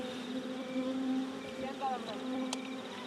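Bees buzz around a wild bee nest, faint thin droning tones drifting in and out over quiet background, heard from nearby.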